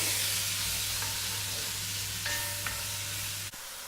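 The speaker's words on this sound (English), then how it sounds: "I continue to fry the bacon and add all the onions and garlic" Bacon, onions and garlic frying together in a pan for a traditional French rabbit dish, a soft continuous sizzle under a low steady hum with a couple of faint clinks.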